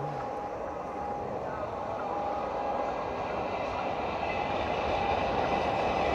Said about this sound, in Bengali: আবার ট্রেন আসছে নাকি?